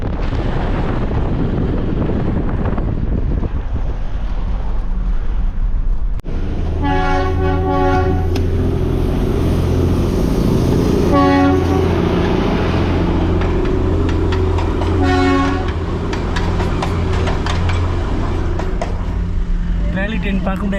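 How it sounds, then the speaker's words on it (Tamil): A train passing on a track that runs beside a road, heard through steady wind rumble, with a horn-like tonal sound swelling in and out over the rolling noise, fairly loud and continuous. "நான் ட்ரெயின் ஓடலைன்னு நினச்சேன். ட்ரெயின் ஓடுது."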